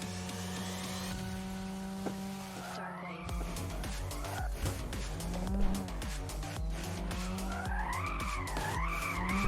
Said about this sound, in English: the tires are slipping and stuff, which is good.